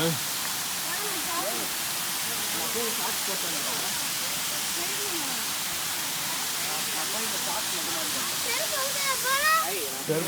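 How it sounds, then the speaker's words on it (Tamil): Aanaivari Muttal Falls in Salem District, Tamil Nadu, pours down from above in a loud, constant roaring rush of water, with people's voices and calls mixed faintly into the steady torrent. "மேலேருந்து வருது அருவி."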